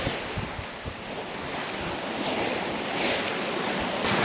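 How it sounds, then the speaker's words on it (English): Wind and sea waves aboard a sailboat heading toward the south of Stewart Island on a grey day, a constant broad rushing roar with buffeting wind noise on the microphone, swelling slightly louder toward the end. "It's a bit of a grey day, but there's wind."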